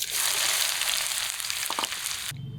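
Chicken kosha fries with spices stirred into the pan, a dense close sizzle with a couple of quick stirring scrapes, cutting off abruptly to a low muffled thud at the end; no talk.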